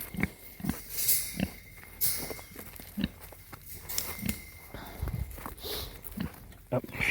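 A pet pig named Kevin grunts in short, irregular snorts close by, mixed with shuffling and chewing-like noises and occasional background movement.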